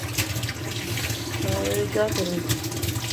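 Cold water runs from a household tap over a badly cut hand, a steady broadband wash beneath close, agitated talk.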